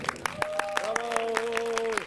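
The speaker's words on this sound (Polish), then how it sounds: "Brawa dla Remka." Festival crowd clapping in a quick, even rhythm, with a sustained voice held over the beat; the claps come fairly close and steady throughout.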